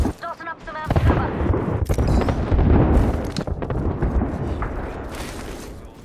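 A video game airstrike hits with heavy, rumbling explosions rolling on for several seconds in a dense, loud wash, with game voice lines and talk mixed in at the start.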